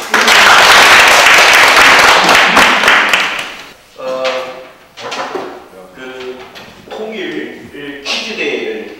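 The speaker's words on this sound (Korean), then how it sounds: "박수." Audience applause in a classroom hall during a unification education session before a team quiz, a dense burst of clapping for about four seconds that then thins into scattered claps and voices.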